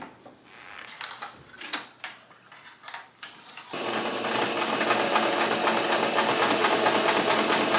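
A sewing machine hems a fabric ruffle, first in short stop-start bursts, then settling into a steady, continuous whirring stitch run that stays fairly loud until the end.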